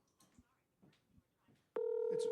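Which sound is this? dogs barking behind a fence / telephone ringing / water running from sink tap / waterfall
telephone ringing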